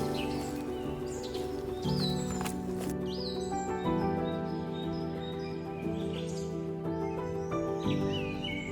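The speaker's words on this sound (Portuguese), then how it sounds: "O ar da estação chuvosa traz sons vibrantes, pássaros cantando, insetos zumbindo" Birds singing and chirping in the rainy season in wild grassland, with sustained tonal layers beneath and scattered high calls over about nine seconds, steady and moderately loud without speech.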